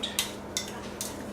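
Kimchi seasoning being stirred together with sugar, with three light, evenly spaced clinks of a utensil against a bowl over a low steady hum; quiet and close.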